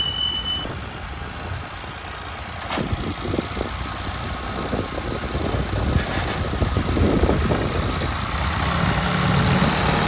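Two tractors run in a field, their engines a steady close mid-pitched drone that builds slightly louder over time, with no voices.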